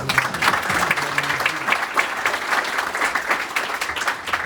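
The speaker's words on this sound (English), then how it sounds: "Let's give her a round of applause for it" Audience applause at a live town hall event in Mason City, Iowa, a steady round of clapping that fills the room, with a few voices speaking faintly underneath.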